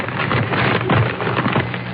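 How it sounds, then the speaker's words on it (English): Paper rustling and crinkling as a radio sound effect on a New Year's comedy program, a steady, close, dense crackle running for about two seconds with no voices. "Then, a rustling of paper."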